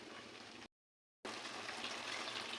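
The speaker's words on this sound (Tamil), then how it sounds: "இந்த ஸ்டேஜில் நம்ம தண்ணி ஊற்றணும்." Water gushes steadily into a pan of chicken being cooked for chicken varuval, a continuous close splashing pour broken by a brief silent cut before resuming.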